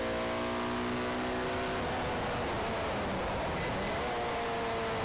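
A Ford Sierra Cosworth race car, struggling on the Brands Hatch GP circuit, sends out a steady engine drone with rising and falling tones as it passes, the noise blended into a constant broadband wash.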